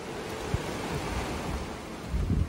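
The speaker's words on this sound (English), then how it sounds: "Sound of the waves is so nice." Ocean waves wash onto the beach at Sugar Beach, St. Lucia, in a soft, continuous surf with light wind rumble on the microphone and a slightly stronger swell near the end.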